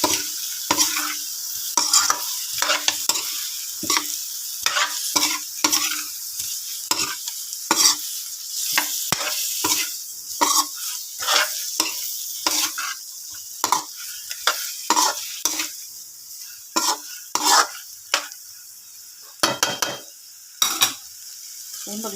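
A spatula stirs food frying in a pan with Ajinomoto seasoning, giving close, repeated scraping and clinking strokes over a steady, loud sizzle, with no talking.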